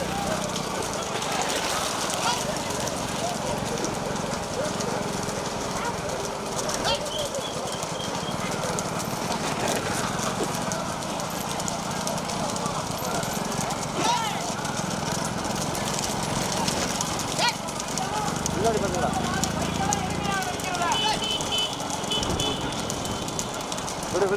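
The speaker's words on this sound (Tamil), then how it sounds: "பாத்துக்கு மாடு ஓட்டி வருகின்ற சாரதி மாவிலங்காவையர் சுப்பையா கருத்த கண்ணன்" Bullocks pull racing carts at a village bullock cart race, hooves and cart rumble mixed with crowd noise and an announcer talking throughout, steady and dense.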